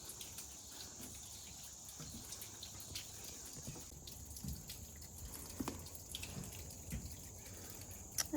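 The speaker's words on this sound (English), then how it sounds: "This is just a tiny trickling sound, and it drains off that way." A small waterfall trickles gently at Graham Cave State Park, a faint, steady patter of running and dripping water with scattered soft splashes and no speech.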